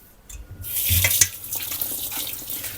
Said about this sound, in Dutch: En ik was ze af onder de kraan.